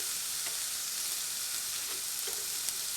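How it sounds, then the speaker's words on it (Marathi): Cabbage, capsicum and carrots sauté over a high flame for Hakka noodles, making a constant dense sizzle with a few faint stirring knocks, close and unbroken, with no talking. "हे सर्व भाज्या घालून मी चांगलं परतून घेणार आहे"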